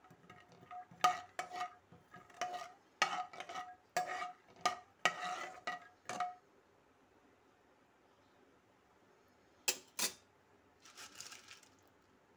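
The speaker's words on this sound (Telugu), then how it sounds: "పల్లీలు వేగటానికి కొంచెం టైం పడుతుందండి. ఇవి బాగా ఎర్రగా వేగించుకోండి." Peanuts being stirred while they fry in a pan: a run of close, crisp scraping and rustling strokes for about six seconds, then quiet, then a few more brief stirs.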